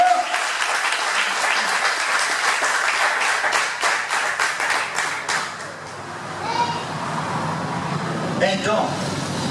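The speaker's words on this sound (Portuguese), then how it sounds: "Palmas para o Senhor Jesus." Church congregation clapping in praise, a dense steady round of applause lasting several seconds before thinning out under voices and a preacher's speech.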